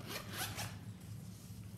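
The zipper on a black nylon Vera Bradley zip-around wristlet is pulled in three or four quick rasping strokes, close and quiet, followed by a faint rustle of handling.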